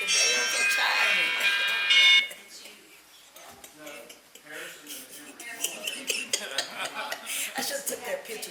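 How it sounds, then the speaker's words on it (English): Bells ring out brightly for about two seconds before a city council meeting, followed by indistinct talk and light clatter in the room. "Okay, the bells are chiming."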